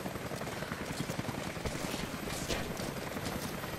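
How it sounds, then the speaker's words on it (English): A helicopter in a shooter video game, its rotor a steady, dense thumping wash held at a moderate, constant level throughout with no voices. "Oh, I should take the helicopter."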